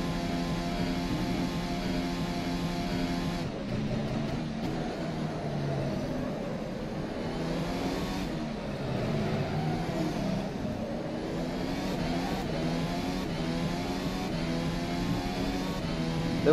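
Engine of a Formula SimRacing FSR 2018 development car in rFactor 2 as it laps Spa. A steady, moderately loud engine tone rises and falls through gear shifts and revs with no voices.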